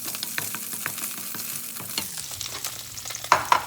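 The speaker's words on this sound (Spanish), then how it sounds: "Ahora vamos a echar lo primero el ajo." Garlic fries in a little extra oil, a crackling sizzle with repeated clicks and scrapes from a utensil stirring the pan, the tone dropping partway through and two sharper knocks near the end.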